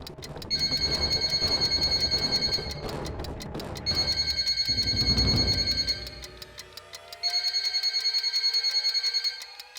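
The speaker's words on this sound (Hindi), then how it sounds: "आशा, ये मेरी रिंगटोन नहीं है।" A phone ringtone trills in three repeated bursts of rapid electronic ringing, with a low rumbling noise between the first two.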